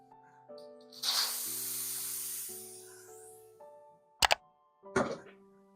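A pressure cooker holding meat curry lets off a long hissing whistle of steam, with steady tones running underneath. Two short sharp bursts of hiss follow near the end.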